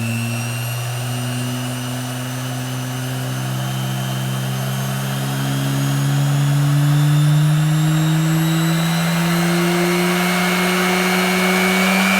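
Abest mini grinder and polisher with flexible shaft spinning at maximum speed on a workbench, a steady high whine that climbs in pitch as it winds up, then holds a constant close, moderately loud tone.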